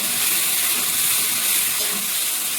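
Mustard and cashew paste fries in hot oil with a loud, dense, unbroken hiss that holds steady throughout, with no talk over it.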